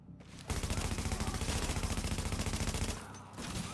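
Rapid automatic gunfire rattles loud and continuous for a few seconds in a shooter video game mission against incoming hostiles. Brief quieter gaps come before and after the burst.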